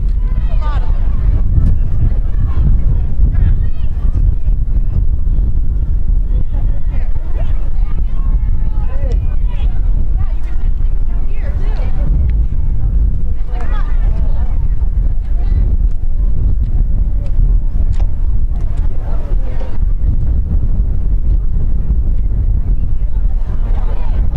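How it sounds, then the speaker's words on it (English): Strong wind gusting across an open outdoor field at a youth ultimate frisbee championship final, a loud continuous low roar buffeting the microphone throughout, with voices talking over it. "Big gust of wind right now."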